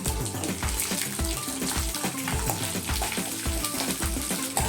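Fenugreek seeds, chana dal and urad dal are dry-roasted in a pan, making a continuous rattling, scraping stir with a steady rhythmic churn close by.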